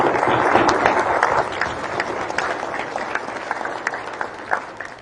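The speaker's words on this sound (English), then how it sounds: "So let's give them a round of applause." Applause from a small crowd at a battalion change of command ceremony, strongest at the start and then thinning into scattered individual claps, a few sharp hand claps standing out near the end.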